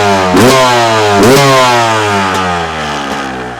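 A Beta 200 RR X-Pro two-stroke motorcycle engine, warming up, revs sharply twice then settles into a steady, buzzy idle, close and loud with no talk over it.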